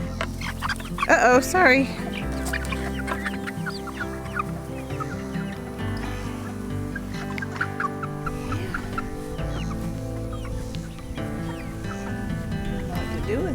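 Farm chickens cluck and chatter continuously near and far, with a burst of louder squawks early on, while a person talks over the flock.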